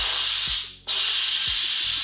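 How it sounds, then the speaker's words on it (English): An Instant Pot pressure cooker releases steam after cooking chicken dum biryani, a loud, steady, close hiss that briefly fades and then surges back at full strength. "Keep it on warm mode for 10 minutes, then release the steam."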